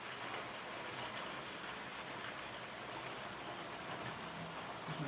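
A steady rumbling roar of a passenger train departing and rolling past at a distance, even and unbroken throughout, with no voices.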